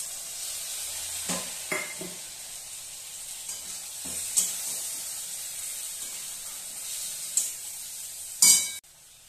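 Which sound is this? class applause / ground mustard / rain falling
ground mustard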